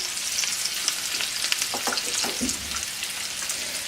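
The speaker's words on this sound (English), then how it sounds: "I know you all want to see me frying chicken like this." Steady crackling sizzle of chicken frying in hot oil, close and continuous, with a few louder pops and a brief stir midway.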